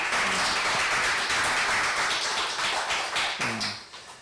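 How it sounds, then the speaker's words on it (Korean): A church congregation at a Wednesday worship service breaks into applause, a dense, steady wash of many hands clapping that slowly fades toward the end. "우리 주님께 영광의 박수 올려드리겠습니다"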